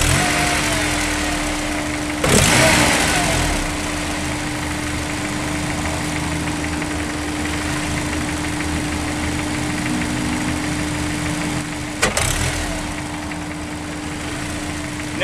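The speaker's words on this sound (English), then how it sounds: "So just take a close listen to the engine note." A turbocharged car engine fitted with a Synchronic blow-off valve holds a steady, close idle drone with a constant hum, broken by two short sharp bursts early and late.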